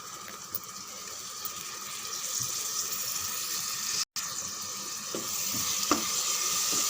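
Biryani masala frying in oil as yogurt is stirred in, a constant close sizzle and hiss with occasional soft spoon taps and clicks, no talking.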